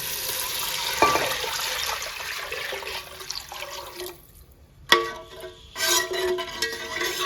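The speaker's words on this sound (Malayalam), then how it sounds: "അതിന് രണ്ട് കപ്പ് വെള്ളം ആഡ് ചെയ്യുന്നുണ്ട്" Water pours steadily into a pot of rice for ghee rice, two cups added, a running liquid splash with a brief pause before pouring resumes.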